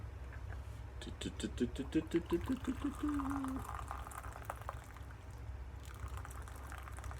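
Hot water poured from a kettle during an online cooking lesson, a rising gurgling fill tone for a couple of seconds over a low background hum, with soft clinks around it.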